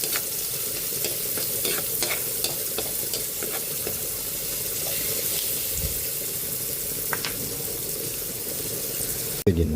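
Garlic and onion sizzle steadily in a hot pan while a utensil stirs and scrapes through them, a continuous close frying hiss with scattered clicks, alone with no talk, ending in a brief louder clatter.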